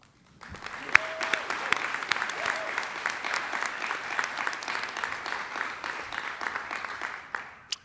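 Applause from graduates, families and friends at a university commencement ceremony: a broad, steady wash of clapping from a large crowd, moderately distant, building quickly and holding for about seven seconds before fading.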